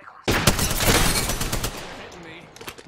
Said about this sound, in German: Der wird angeschossen und schießt jetzt mal los.